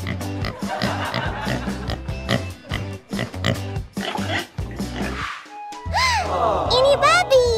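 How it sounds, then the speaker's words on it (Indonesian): A pig grunts and oinks repeatedly in a pen during a winter holiday visit, loud and close, mixed with squeals and voices talking over the animal sounds. "Ini babi."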